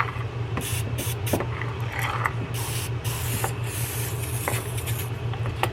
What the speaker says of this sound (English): we're going to take some penetrating oil, we're going to spray this down